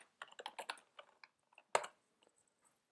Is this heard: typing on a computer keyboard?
yes